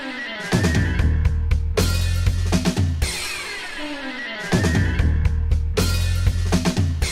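Loud, dense 1980s-style retro action music with pounding synth bass, punchy drums and bright synth stabs driving forward, with no voices.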